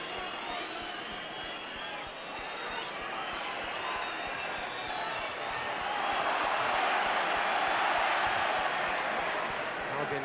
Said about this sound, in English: Crowd growing restless as Liverpool build up with Rush.